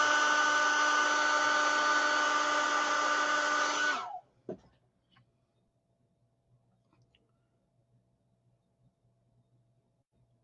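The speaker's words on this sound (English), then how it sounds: "Again with the blow dryer." A blow dryer drying freshly airbrushed green paint gives a loud, steady whooshing roar for about four seconds, then switches off with a click, leaving near silence.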